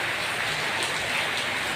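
Heavy rain pouring down in a continuous dense hiss, loud and unbroken, with no voices.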